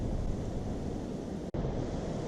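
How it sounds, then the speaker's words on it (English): Wind blowing outdoors, a loud steady rumbling roar buffeting the microphone with one brief dropout near the middle. "It's a bit windy at the moment"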